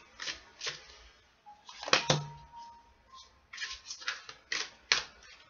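Quick papery riffles of tarot cards being shuffled in several bursts, close up, with a faint tone and a soft thump in the middle.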